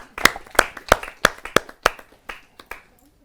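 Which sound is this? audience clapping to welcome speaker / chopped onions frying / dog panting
audience clapping to welcome speaker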